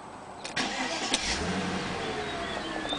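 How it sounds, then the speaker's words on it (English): A V8 car engine cranks and fires up, a brief starter whir and a catch, then settling into a smooth, fairly quiet idle heard close by with no talk. "Here goes the V8."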